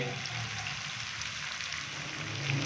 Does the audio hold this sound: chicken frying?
yes